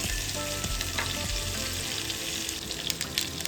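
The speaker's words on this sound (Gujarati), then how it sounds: "વઘારમાં જ રાઈ છે ને સરસ ચટકવા લાગે" Steady crackling and spattering of mustard seeds popping in hot oil with curry leaves and green chilli, dense and continuous, close up with no voices.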